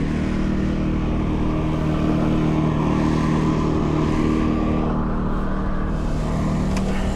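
A $500 snowblower runs steadily while clearing a walkway, its small engine giving a loud, continuous droning hum with a rough, buzzing mechanical texture that holds close and unbroken throughout, with no voices.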